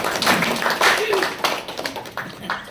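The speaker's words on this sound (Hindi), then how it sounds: "आप सब एक बार अपने लिए जरूर जोरदार ताली बजाएंगे।" Audience at a motivational talk claps loudly in a dense, continuous burst, with a voice speaking over the applause throughout.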